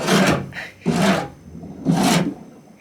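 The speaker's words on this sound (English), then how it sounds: "He's cleaning the house." Three separate broad sweeping strokes, like a broom brushing a floor, close by with short pauses between them.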